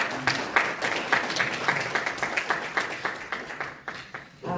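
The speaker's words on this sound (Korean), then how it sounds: "여러분의 뜨거운 박수로 모시겠습니다." Audience applause fills a hall at a sustainable development conference in Incheon, welcoming a city official to the stage. Dense, steady clapping from many hands continues throughout, moderately loud with no talking over it.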